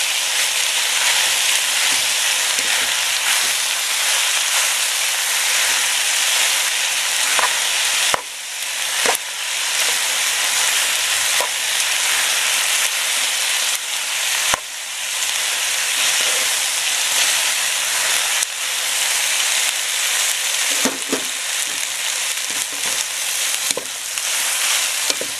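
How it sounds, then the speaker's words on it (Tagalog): Boiled macaroni stirred into chicken macaroni soup in a pot, a loud, steady hissing sizzle with occasional scraping knocks of the spoon, close and continuous without speech. "ilagay na natin itong boiled na macaroni. Okay, haluin po natin mabuti"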